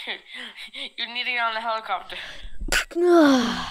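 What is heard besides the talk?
sneeze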